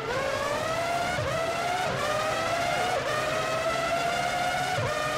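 High-pitched engines of Formula One cars screaming around the Monaco street circuit in a 2003 PS2 racing game, a steady loud whine rising and dipping through gear changes, with occasional brief squeals.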